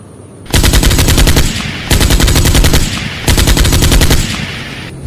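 HK416 assault rifle fires in a video game: three long, loud bursts of rapid automatic fire, each a second or more long, separated by brief pauses.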